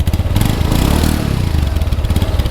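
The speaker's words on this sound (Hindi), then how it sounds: "मुझे ऑडियंस को एग्जॉस्ट नोट सुनाना है एवेंजर का" A Bajaj Avenger 160 motorcycle with a modified exhaust revs and idles up close, its loud, throaty exhaust rumbling with rapid pulsing beats.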